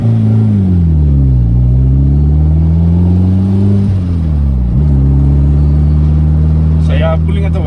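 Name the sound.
Honda B18C turbo car pulling away in first gear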